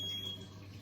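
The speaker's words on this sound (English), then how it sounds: "There's my timer just gone off" A kitchen timer goes off with a brief high electronic beep in a home kitchen during pressure canning, fairly faint, over a low steady background hum.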